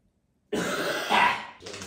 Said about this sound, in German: So husten.